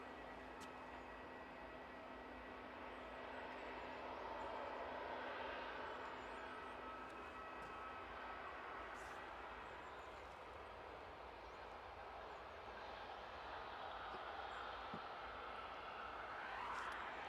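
Steady jet engine rumble of an airliner, a KLM jet lining up on the runway at Edinburgh Airport, heard from a distance at low level, a continuous drone with no talk.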